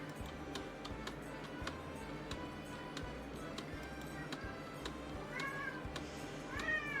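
A cat meows several times, rising and falling cries standing out near the end over steady game music with a soft repeating ticking, no talk in between.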